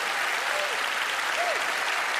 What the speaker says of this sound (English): Give Teller a big round of applause.